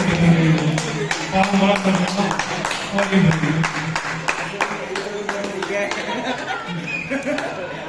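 Parents clap for children at a school New Year sports event, with scattered claps and taps mixed into lively chatter, laughter and nearby voices throughout.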